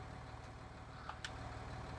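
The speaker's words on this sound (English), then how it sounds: "Now I know why Uncle Sue bought this tractor" A tractor engine idles steadily in Farming Simulator 19, a low continuous rumble with even pulsing, a couple of faint brief clicks over it and no talking.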